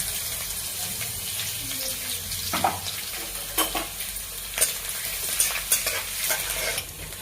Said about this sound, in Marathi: तेल गरम झालेलं आहे आपण पहिल्यांदा मोहरी टाकून घेऊया तडक्याला लगेच जिरे टाकूया नंतर आपण ठेचलेलं लसूण टाकून घेऊया